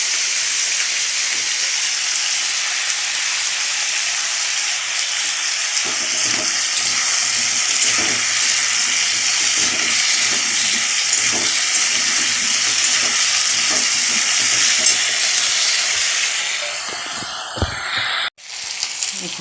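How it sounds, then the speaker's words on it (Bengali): Potatoes frying in a pan on a home stove, giving a steady, close hiss of sizzling oil that lasts throughout, with faint scrapes and clinks toward the end. "আলুটা ভাজা হচ্ছে"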